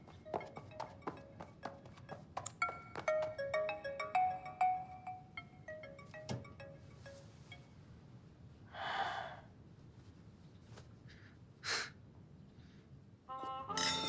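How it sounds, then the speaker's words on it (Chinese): A mobile phone ringtone plays a short repeating melodic phrase of bright tones for a few seconds, then gives way to quiet breaths, soft sighs and small knocks in a still indoor room. "我接个电话"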